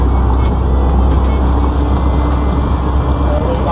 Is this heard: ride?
yes